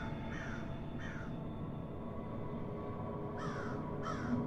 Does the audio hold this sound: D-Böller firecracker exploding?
no